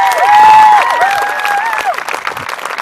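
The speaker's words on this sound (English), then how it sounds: "Please join me in a very special round of applause" An audience at a school graduation applauds and cheers in a loud, sustained wave of clapping, with whistles rising over the crowd.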